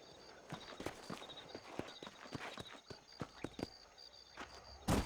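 Horse hooves clip-clop at a walking pace in Red Dead Redemption, a steady run of sharp, close knocks spread evenly across the stretch, with faint ambient tones behind and no talk.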